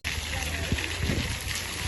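Water gushes steadily from a big pipe at a busy outdoor French market, a continuous broadband rush with faint voices and market bustle underneath.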